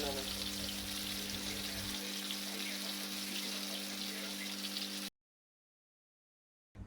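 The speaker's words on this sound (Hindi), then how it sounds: "ये अब फ्राई करने के लिए अभी हम कबाब डाल रहे हैं" Shami kababs fry in a pan of oil, giving a steady, close, watery hiss that runs for about five seconds before cutting to silence.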